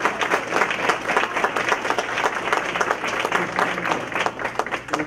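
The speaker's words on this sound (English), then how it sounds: "Let's all join the board one more time and give these students a round of applause." A school board audience applauds a group of students, steady dense clapping filling the room throughout, fairly loud and continuous with no break.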